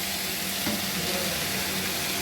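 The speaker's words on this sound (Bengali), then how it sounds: "পেঁয়াজ ক্যাপসিকামের মধ্যে দিয়ে আরও কিছুক্ষণ নাড়িয়ে ভাজার মতো করে নিতে হবে" Chopped onion and capsicum fry in a pan for a chicken egg roll filling, giving a steady, dense sizzle that fills the whole clip with no voices.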